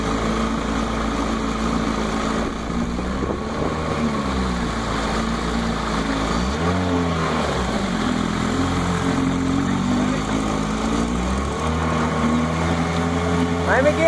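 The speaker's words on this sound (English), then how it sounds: "The old Johnson Seahorse 10 against a 23 horsepower mud motor. We're going to drag race." Two small outboard motors, an old Johnson Seahorse 10 and a 23 horsepower mud motor, drone loudly together on flatbottom boats in a steady buzzing roar, with pitch rising and falling as they rev.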